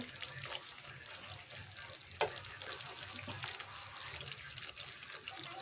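Coconut milk cooking down in a pan to make homemade coconut oil, with a steady close sizzle and frying hiss under scraping stirs, one sharper clack partway through.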